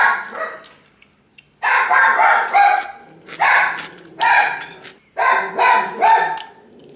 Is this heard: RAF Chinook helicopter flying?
no